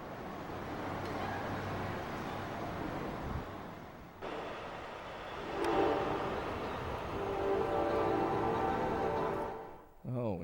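A train passes quickly by an outdoor crossing, a rising rumble and wash of wheel and wagon noise with a brief horn-like tone, swelling and then fading away after several seconds.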